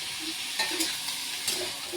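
Carrots, capsicum, beans and peas fry together in a kadai with a close, steady sizzle and a few soft scrapes of stirring.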